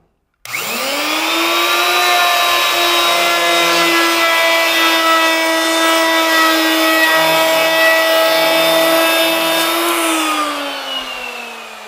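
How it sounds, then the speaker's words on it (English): Power plane with a fence planing the narrow edge of a wooden board, starting abruptly and holding one steady, loud whining drone for about ten seconds before spinning down, with faint cutting changes in the middle. "By using a plane with a fence on it, you can assure yourself of a better chance of having a square surface"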